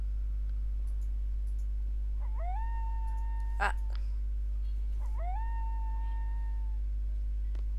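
A dog howls twice in the video game Final Fantasy 8, two drawn-out rising wails separated by a brief pause, with a single sharp click between them over a steady game hum.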